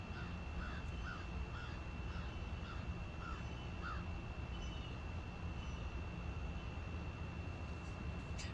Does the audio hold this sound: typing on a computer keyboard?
no